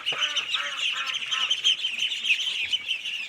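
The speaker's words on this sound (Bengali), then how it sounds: "এই হলো আমাদের হাঁস" Khaki Campbell ducks call in a flock, a dense, continuous chatter of overlapping quacks and squawks with no pauses, loud and near.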